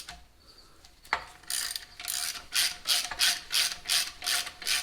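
A ratchet or torque wrench clicks through rhythmic strokes while tightening bolts to 37 foot-pounds during a 4.3 to 5.3 V8 engine swap in a Sierra pickup. A sharp clank is followed by regular ratcheting pulses, close and clear.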